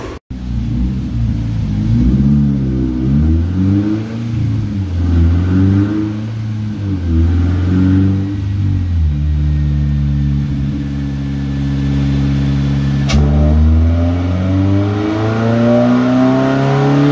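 Toyota GR86 engine on a dyno run in fifth gear, revving loud and close with a rising-and-falling harmonic drone that climbs repeatedly over about seventeen seconds, then holds a steady high rev before dropping and rising again.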